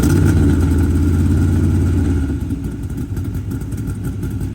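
A Corvette engine runs loudly up close, a deep throbbing rumble that eases slightly partway through and keeps idling steadily until it cuts off at the end.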